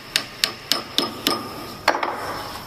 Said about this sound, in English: Then what time is it? Hammer time.